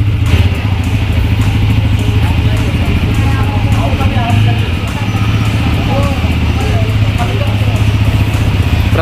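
A new TVS Apache 160 4V motorcycle, 2025 special edition, running loud and close with a steady, throbbing idle throughout, while people talk over it.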